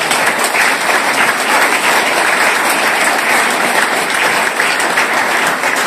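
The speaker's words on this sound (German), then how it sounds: "Also auch dafür gibt es einen Applaus." A large crowd applauds continuously and loudly, a dense wash of clapping that holds steady without a break.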